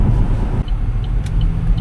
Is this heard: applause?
no